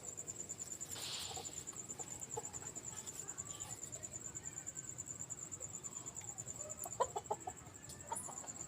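Chickens in a dim backyard coop give faint, scattered clucks and soft shuffling, with a steady high insect-like whine running throughout and a few slightly louder bird calls near the end.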